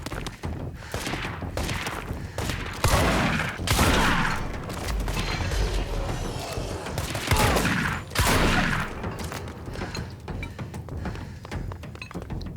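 Repeated shotgun blasts and thudding impacts from a firefight in the video game Control, loud and dense, with booms clustering around several bursts over a steady roar of combat noise.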